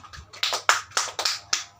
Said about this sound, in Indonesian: semuanya pintar, tepuk tangan